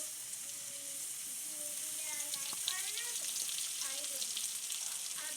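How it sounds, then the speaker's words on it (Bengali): Onions fry in oil in a pan, a steady bright sizzle at close range with faint stirring, ahead of adding ginger-garlic paste for a Bengali bhetki fish curry. "দেখুন বন্ধুরা, পেঁয়াজগুলো একটু ভাজা ভাজা হয়ে গেছে।"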